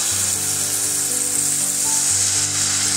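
Batter frying in white oil gives a steady, close sizzle that runs throughout under a low humming drone, with no talk.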